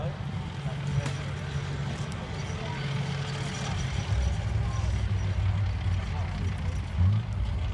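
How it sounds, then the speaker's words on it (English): The heavy engine of a restored WW2 Tiger tank rumbles continuously as it passes at Bovington Tank Museum, with a low droning growl rising and falling and some clanking mixed in. "I'll just let you hear the engine as it goes by now."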